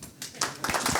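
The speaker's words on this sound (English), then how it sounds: "golf clap for Manu, please" A conference audience gives a sparse, polite golf clap, with a handful of soft, scattered claps that are brief and fairly quiet.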